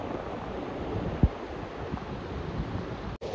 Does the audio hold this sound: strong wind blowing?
yes